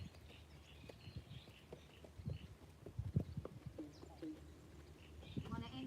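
Horse hooves clip-clopping at a walk outdoors in spring, irregular soft knocks close by, with faint birdsong and a person talking quietly throughout.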